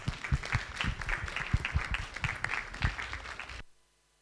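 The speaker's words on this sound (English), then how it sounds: "Let's give Dr. Malaleo another round of applause." Seminar audience claps after a leadership talk, a crowd of hands sounding close and uneven with distinct sharp claps among the wash, then cutting off abruptly into silence.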